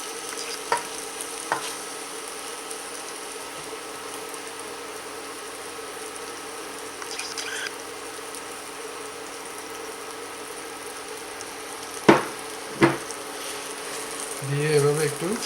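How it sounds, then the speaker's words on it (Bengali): Mashed potato filling stirred into melted butter in a pan for Brazilian escondidinho de carne, a soft steady sizzle with occasional scraping knocks of the spoon, fairly quiet and with no talking. "দিয়ে এভাবে একটু নাড়তে হবে"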